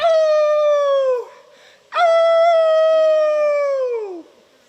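A dog lets out two long, loud, close howls, each a sustained tone that slides downward at the end, with a short pause between them.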